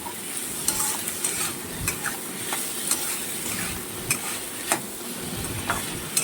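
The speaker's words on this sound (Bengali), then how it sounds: "এটা এখন ভালোভাবে নাড়াচাড়া দিতে হবে, যাতে ডালটা কোনোভাবে তলায় না লেগে যায়" Dal and meat stirred in a frying pot, a continuous close sizzle punctuated by repeated sharp scrapes and clinks of a utensil against the pot at an uneven rhythm.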